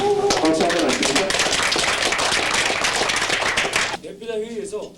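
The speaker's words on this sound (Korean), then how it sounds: "박수 한번 하십시오." Attendees at a formal Korean labor union representatives' meeting break into a burst of dense applause, many hands clapping together loudly for about four seconds before it thins out and a voice begins.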